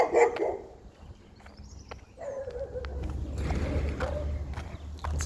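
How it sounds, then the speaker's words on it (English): A dog barks a few times at the start, close and fairly loud, then goes quiet while a low steady hum of traffic or wind carries on in a residential street of new housing in Eccles. "It's a dog."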